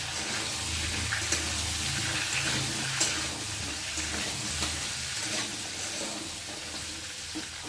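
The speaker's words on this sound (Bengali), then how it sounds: "এই যে কেটে রাখা সবজিটাকে দিয়ে ভালো করে ভেজে নেব" Cut vegetables frying in a pan with cumin and potato, a dense, continuous sizzle with light stirring scrapes and a few sharper ticks, fairly close, with no voices.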